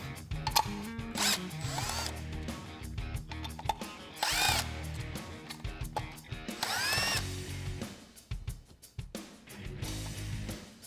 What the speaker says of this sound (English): there are 4 of these Allen head bolts that you have to remove